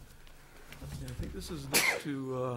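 A single abrupt sneeze erupts in a meeting room at a town planning board session, loud and close, framed by people talking just before and after.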